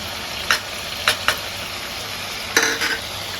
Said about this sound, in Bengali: ভালো করে নাড়াচাড়া করে দিই।